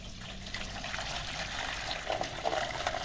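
Water poured out for farm animals during hot summer chores, a soft continuous trickle and splash with light bubbling, fairly faint and close, no talk over it.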